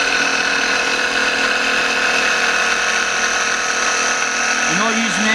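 A Turbo6 machine polisher runs steadily at speed 2 while applying sealant to a car's paintwork, giving a loud, continuous motor whine with a constant tone throughout.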